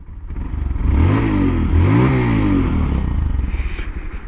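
A 2019 Honda Monkey motorcycle engine runs close by, its small motor revving up and down in a couple of rising and falling swells over a steady idle.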